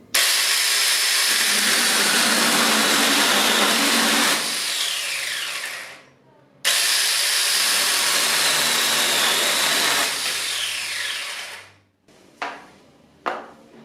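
A battery-powered mini electric handheld chainsaw cuts wood in two long loud whining runs, each lasting several seconds and dropping off as the cut ends, followed by a couple of short bursts.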